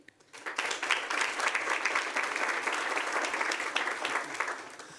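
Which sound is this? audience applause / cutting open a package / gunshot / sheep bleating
audience applause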